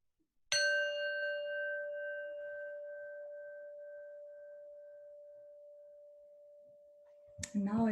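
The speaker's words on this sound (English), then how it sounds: "I'm ringing the bell." A single bell stroke at a gentle Qi Gong session rings out clearly and leaves a pure, sustained tone that fades slowly over several seconds before a voice begins speaking.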